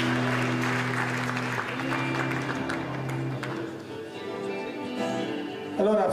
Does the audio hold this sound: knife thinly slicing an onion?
no